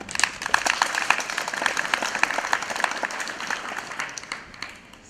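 At a school thanksgiving gathering, an audience claps steadily in a dense wash of applause that tapers off toward the end.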